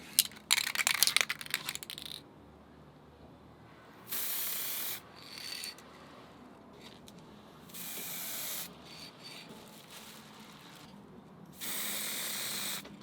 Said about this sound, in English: What you do when you're spraying is you start the spray before you actually contact the point